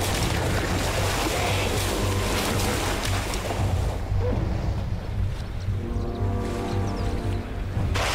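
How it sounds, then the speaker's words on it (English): In a river, a hippo beats and thrashes the water with its tail, a loud, continuous churning of splashes and surging water that eases partway through, with no talking. "He swims in front of the dominant male and beats the water with his tail straight away."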